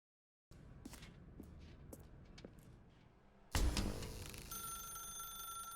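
A telephone rings in The Stanley Parable video game. Soft, scattered taps come first, then a loud electronic ring starts abruptly partway through and keeps sounding steadily to the end.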